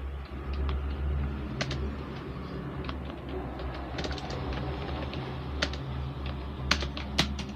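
Typing on a computer keyboard, with soft scattered key taps and a few sharper clicks over a steady low background hum, heard close with no speech.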